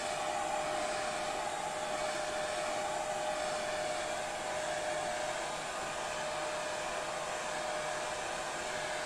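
A hair dryer runs steadily and loudly on a craft piece, a constant close whirring airflow with a fixed tone and no pauses or speech.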